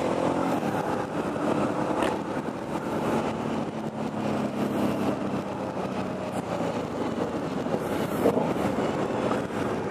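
Aprilia Dorsoduro 900 motorcycle, a 2018 model with a 900cc engine, burbling steadily while being ridden, with continuous engine rumble and road noise throughout and no talking.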